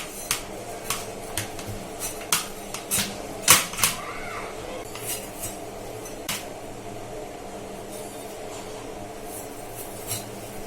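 A knife chops the fins off a shark, sharp irregular thuds and knocks on a cutting surface, a quick cluster of strikes early and then sparser hits, with faint background voices.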